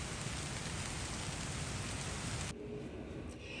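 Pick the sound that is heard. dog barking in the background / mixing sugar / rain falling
rain falling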